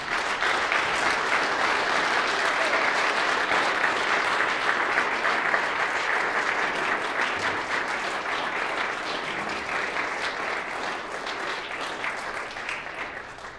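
Sustained applause fills a legislative chamber, a dense steady wash of many hands clapping that holds at an even level for the whole stretch and eases slightly near the end, with no talk over it.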